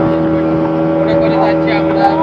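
Speedboat at a river speedboat ghat, its engine droning steadily and loudly with a tonal hum and wind rush, while someone speaks over it.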